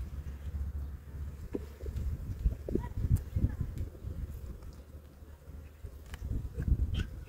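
Honeybees buzz steadily around an opened hive during an early March inspection, a dense close drone with brief wing flicks and a gusty outdoor edge throughout.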